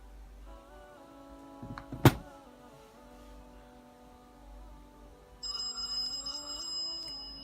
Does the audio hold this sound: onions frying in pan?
no